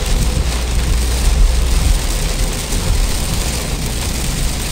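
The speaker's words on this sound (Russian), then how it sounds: "Опять хороший ливень такой, тропический." Tropical downpour drumming on a car driving along highway I-95 in Georgia, a dense, steady roar of rain and road noise that fills the whole clip with no talking.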